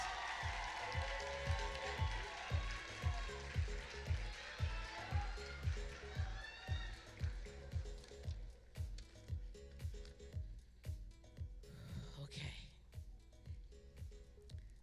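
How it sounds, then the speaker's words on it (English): Audience applause for pageant contestants at a Black college queens competition, a dense clapping wash at the start that gradually fades beneath a steady, thumping music beat. "Give all of them another big round of applause."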